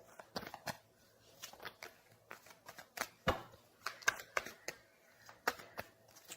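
Tarot cards being shuffled during a reading: soft, irregular riffles and papery taps, close and fairly quiet, in scattered bursts with short pauses between.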